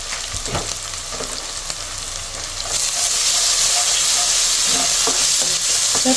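Ginger garlic paste frying in a pan, a bright steady sizzle that jumps louder partway through, with a few scraping stirs.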